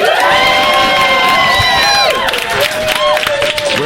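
A live podcast audience in Austin, Texas cheers and whoops loudly, with shouts and some applause blending into a dense, continuous crowd roar.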